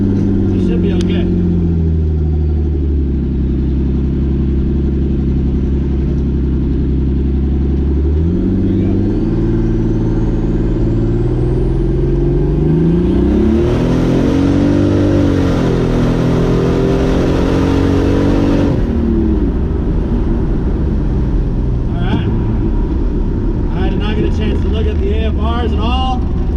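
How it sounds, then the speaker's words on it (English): A Datsun 280ZX on coilovers accelerates hard at wide open throttle in second gear, its engine roaring loud and close as the pitch climbs steadily, dips with a brief lift, then rises again toward the shift point. "We can actually get it into second gear, wide open throttle."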